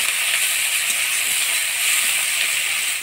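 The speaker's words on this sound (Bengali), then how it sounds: "চিংড়ি শুটকিটা একটু ভাজা ভাজা করে নিলাম।" Dried shrimp with black cumin, chopped onion, turmeric and salt frying in a pan, a loud continuous close sizzle with a steady hiss.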